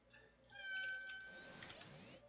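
A house cat meows to be let out of a room: one drawn-out, rising-then-falling cry that stretches into a strained wail, fairly close and clear over low background hum, with no talk.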